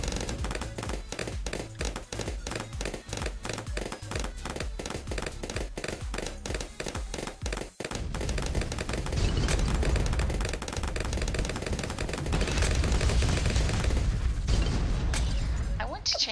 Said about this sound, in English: use a bomb shooter ability to bust open that Moab